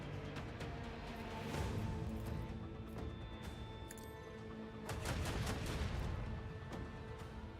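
Heavy booming cannon shots fire repeatedly in rapid bursts in the video game Warhammer 40,000: Rogue Trader, loud and rumbling, with crashes and scattered explosions layered over a continuous battle din.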